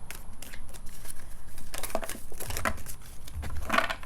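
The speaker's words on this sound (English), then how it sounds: "so I'm going to keep on shuffling until I get like a substantial amount of cards that are coming out" Tarot cards being shuffled by hand: papery rustling and soft slaps in quick irregular bursts, close and fairly quiet, with no talking.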